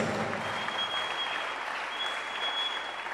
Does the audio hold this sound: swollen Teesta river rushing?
no